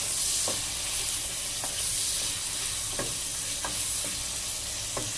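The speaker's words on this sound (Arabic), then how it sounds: "هنا شوحنا الكبد والقوانص في الزبده والزيت بالشكل ده كده" Chicken liver and gizzards sautéing in butter and oil, a steady loud sizzle with stirring strokes scraping the pan every second or so.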